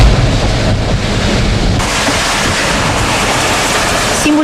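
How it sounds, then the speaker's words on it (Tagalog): Heavy rain and wind lash down during a storm in Western Samar, a dense, loud, continuous roar of downpour and gusts buffeting the microphone throughout. "May pabugso-bugso pa rin ang buhos ng malakas na ulan dito sa Western Samar"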